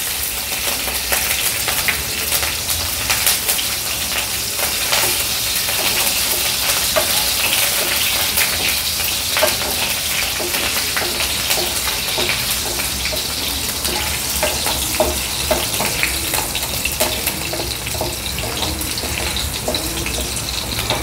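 Green chilies and mustard seeds crackling in hot oil in a kadhai on a gas stove for a tempering, a dense continuous sizzle and spatter that stays loud and close for about twenty seconds without talk.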